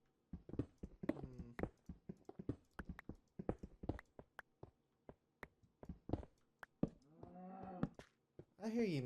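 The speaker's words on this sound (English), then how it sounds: "I hear you, Mr. Cow." Minecraft cow mooing in a video game, a low drawn-out moo near the end following a stretch of short clicky clip-clop-like game noises.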